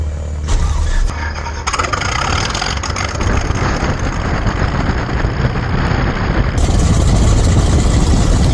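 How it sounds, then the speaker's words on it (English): Cessna 182S aircraft piston engine starting up and settling into a steady, loud idle, with a low rumbling drone that builds after a brief cranking stutter and stays continuous throughout. "it's quite a palaver getting this engine started"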